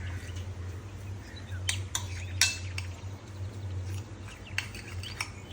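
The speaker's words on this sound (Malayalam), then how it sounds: "എന്നിട്ട് ഞാൻ ഇതെല്ലാം കൂടെ നമുക്ക് ഒരു സ്പൂണൊക്കെ വെച്ചിട്ട് ഇങ്ങനെ നന്നായിട്ട് മിക്സ് ചെയ്ത് കൊടുക്കാം" Spoon stirring lemon juice into a beaten egg mixture in a bowl, giving a few sharp clinks and scrapes against a steady low background hum, with faint bird chirps in the distance.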